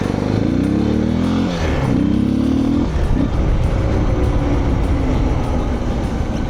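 A Suzuki DR 650 motorcycle rides on dirt, its single-cylinder engine revving up through rising gear pitches, then settling into a loud, rough, steady drone with gravel crunch close by.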